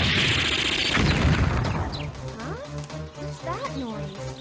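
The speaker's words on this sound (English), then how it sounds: "What's that noise? Sounds like... Gunfire!" Video game gunfire in Mega Man Legends sounds as a loud crashing burst at first, then fades into rapid rhythmic popping behind a tonal game soundtrack, with a voice talking over it.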